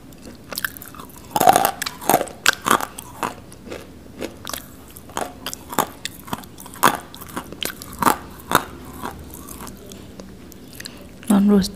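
Dry, non-roasted clay chunks being bitten and crunched up close, with repeated sharp crunches and gritty chewing across the whole stretch and a voice talking between bites.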